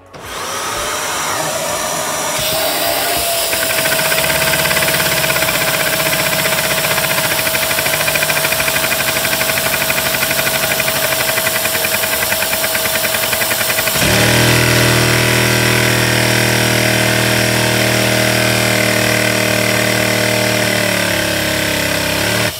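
A small LEGO vacuum-powered VR2 engine whirs steadily at high revs with a buzzing, mechanical hum, its pitch stepping up partway through and holding loud to the end.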